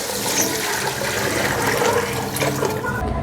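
Water is poured into a cooking pot over lightly fried ingredients for mung dal, spinach and pea rice, a continuous close rushing gush that stops abruptly after about three seconds.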